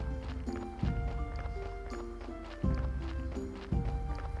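A donkey's hooves clip-clop in the game Graveyard Keeper, with a few spaced, clear hoof knocks over steady tuneful game music.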